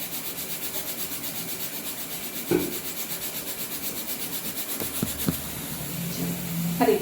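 Wheat flour dough worked by hand with oil and ghee for paneer kulcha, a soft steady rubbing and squishing with a few louder pats and knocks, close up, no talking.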